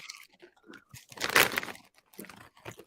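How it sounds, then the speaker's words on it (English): Miss Vickies sweet and spicy ketchup kettle-cooked potato chips being bitten and chewed up close, with a cluster of loud, dry crunches in the middle and softer crinkly chewing noises before and after. "I love the crunch. Kettle cooked chips are phenomenal."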